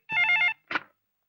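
A telephone bell rings in one short warbling burst followed by a briefer second chirp, then silence, clear and close with no talk.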